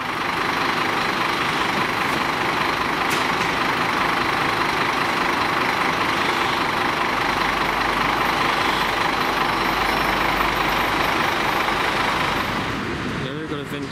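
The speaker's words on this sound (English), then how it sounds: "See the bus arriving now." A Transdev leased bus pulls in at Box Hill, its engine and road noise forming a loud, steady broadband roar that holds for most of the stretch before easing off near the end.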